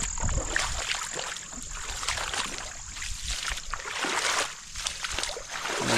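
Irrigation water rushes steadily onto vegetable plants at night, a continuous close splashing flow with no break.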